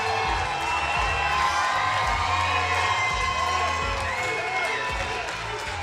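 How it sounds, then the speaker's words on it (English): Loud, dense crowd cheering and whooping fills a fight-event arena without a break, with shouts rising over the roar throughout. "it's hard to get a word in because of how loud the crowd"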